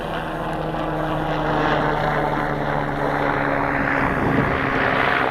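A P-60 electric model airplane on a 1300mAh battery flies overhead with a loud, continuous propeller buzz and steady motor whine that swells slightly as it passes.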